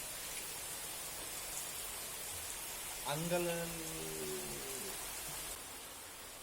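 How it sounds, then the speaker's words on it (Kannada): Heavy rain falls outside in Bengaluru as an even, close hiss that lasts the whole time. A voice speaks briefly over it midway. "ಒಳ್ಳೆ ರೀತಿಯಲ್ಲಿ ಮಳೆ ಬರ್ತಾ ಉಂಟು. ನೀವೇ ನೋಡಿ"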